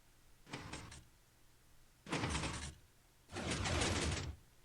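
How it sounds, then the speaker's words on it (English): Airlock doors in Minecraft, worked by slime or honey block mechanisms, move in three separate mechanical bursts of sliding and clacking, each louder and longer than the one before, with quiet gaps between them. "Okay, so if I press this button, that door's closed and that door's open."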